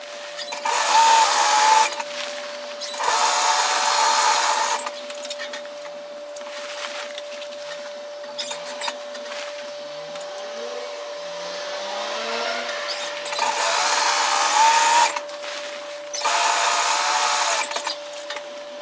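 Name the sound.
sewing machine running a gathering thread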